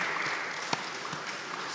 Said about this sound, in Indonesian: Sekali lagi tepuk tangan untuk Pak Dewa dan tim.